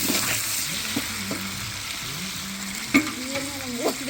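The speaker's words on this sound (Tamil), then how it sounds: "கோல்டன் கலர் வர வரைக்கும் வதக்கி ரெடி பண்ணிக்க" Onions being sautéed until golden for chicken biryani, a steady close sizzle and crackle of frying in a pan with a few stirring scrapes and light clinks of the spoon.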